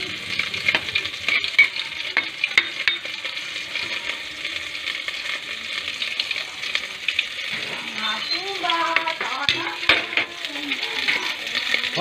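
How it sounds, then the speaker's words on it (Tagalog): Chicken sautéing in a pan for a Filipino chicken puchero, with a steady sizzle and intermittent stirring and scraping throughout, a few utensil clinks, and some faint background activity. "Manok muna para masangkutsa"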